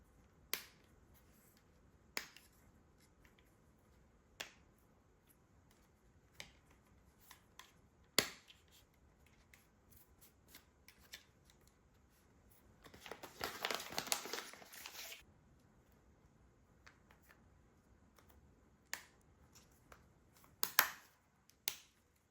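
Replacement ear cushions for Bose QuietComfort 3 headphones are pressed into place, giving a series of sharp, quiet plastic clicks and snaps spaced several seconds apart, with a brief burst of crinkling in the middle.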